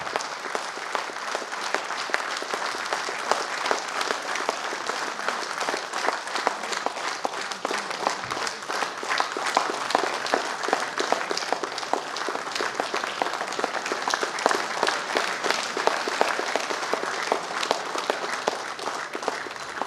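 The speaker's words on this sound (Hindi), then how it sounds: "तो जोरदार तालियों से मंजरेकर सर का जो है स्वागत होना चाहिए।" An audience at a felicitation ceremony claps loudly and continuously, dense sustained applause filling the whole stretch without a break.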